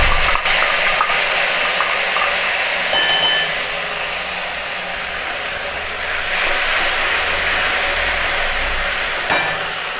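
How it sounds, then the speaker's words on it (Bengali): Mustard and chili paste frying in a pan with Mourala fish, a steady broadband sizzle with occasional stirring clinks, close and continuous throughout with no talking. "আমি এখন এর মধ্যে সর্ষে আর লঙ্কা বাটা দিয়ে দিচ্ছি।"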